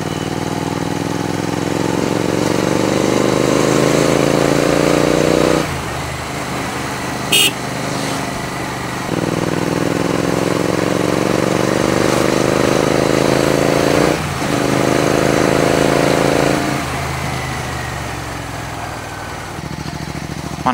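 A Royal Enfield Continental GT 650 twin-cylinder motorcycle engine is heard while riding, rising through several gears in repeated accelerating sweeps, with a brief horn-like blip mid-run, loud and close throughout.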